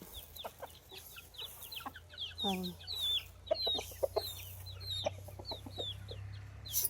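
Several chickens cluck and chirp busily nearby while eating scattered feed, overlapping calls over a low steady hum, with occasional pecking clicks.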